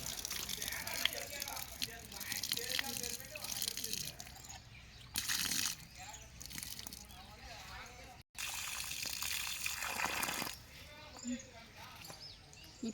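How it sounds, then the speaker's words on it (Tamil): Water poured by hand onto a newly planted apple sapling in a garden, a soft splashing trickle in bursts, with people talking nearby. "இப்போ நம்ம வந்து தண்ணி ஊற்றலாம்."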